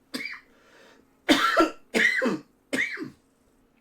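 A voice imitates a mayor clearing his throat, giving four rough, raspy throat-clearing bursts in a row, close and fairly loud, with a short pause after the first.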